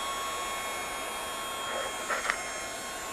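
A heat tool blows a steady, loud whooshing stream of hot air onto bleached cardstock, running continuously throughout with a few faint crackles near the end and no talk.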